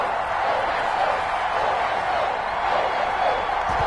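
NFL stadium crowd in Foxborough for a Buffalo Bills vs New England Patriots game, a broad, steady roar of many voices, loud and continuous with a faint cheering swell.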